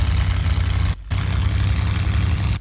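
Hawker Hurricane piston engine in the IL-2 Cliffs of Dover game, a loud steady low rumble as throttle is fed in for taxiing, briefly cutting out near one second before resuming at the same level.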